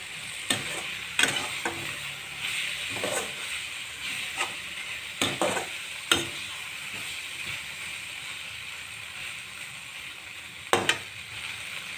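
Grated potato frying in a pan with tomato paste for an okra and potato curry, a soft continuous sizzle broken by repeated sharp scrapes and taps of a spoon stirring, close and fairly quiet.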